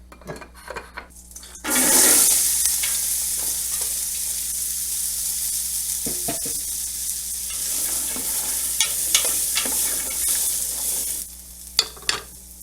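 Olive oil and about a tablespoon of butter hit a hot pan over a gas flame and burst into a loud, steady sizzle, with a few utensil clinks, before the hiss drops away near the end.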